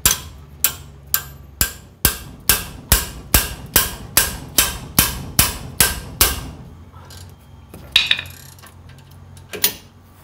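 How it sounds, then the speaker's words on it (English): Sledgehammer tapping on a rear brake rotor of a Chevy/GMC Silverado dually, a dozen or so loud metallic blows in a steady rhythm, close by, followed by a pause and a couple of scattered hits. "get a sledgehammer or something here, and you're gonna have to tap down with that to try to break that loose."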